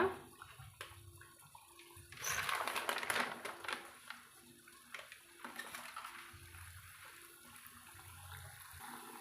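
Sweet athirasam rice fritters frying in a small amount of hot oil, a faint bubbling sizzle that swells briefly early on and then settles to a low, steady crackle.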